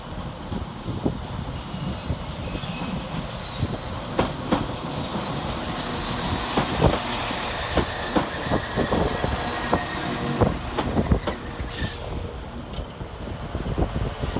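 A Transport for Wales Class 197 train pulls into Chester station with steady rumbling and clacking wheels, scattered squeals and bangs, and wind buffeting the microphone throughout.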